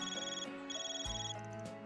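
A telephone ringtone plays in the video game Kai no Kiseki: a clear electronic melodic ring, repeating in short phrases, alone and fairly loud.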